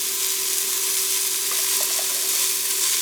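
Garlic and onion fry in a pan with a steady, close hiss of sizzling throughout, broken by a few faint clinks or stirs midway.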